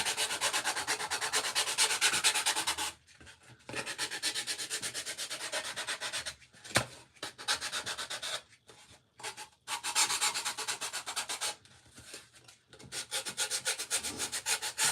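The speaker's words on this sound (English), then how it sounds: "And just let's sand it a little bit." Sandpaper scrubbing a burn barrel snowman craft piece, steady close rasping strokes in bursts separated by short pauses.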